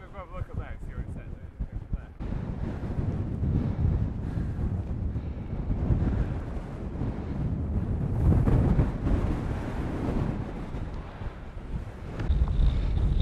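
Strong wind on an exposed hilltop roars steadily across the microphone, loud and gusting in waves, with a brief quieter moment at the start.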